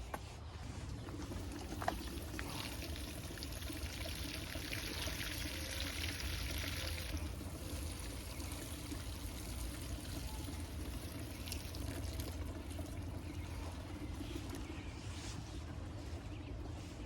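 Water poured steadily onto soil in a plant container, giving a continuous soft trickling and splashing wash that stays even and fairly faint throughout.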